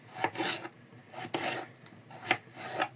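A kitchen knife chops food into cubes on a board, several short uneven rasping strokes with pauses between, close and fairly quiet, with no talking.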